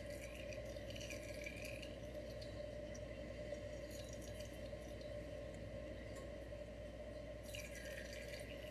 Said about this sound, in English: I'm just doing little drips because we're getting very close.